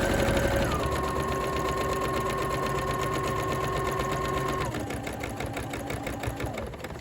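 A sewing machine stitching a seam on a Simplicity 8797 coat, running as a steady, loud whirring hum that shifts speed twice before slowing near the end, close up, no talk.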